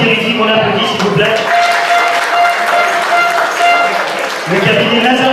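Audience at a football tournament gathering claps for a sponsor, a sustained round of applause mixed with a French-speaking announcer's voice.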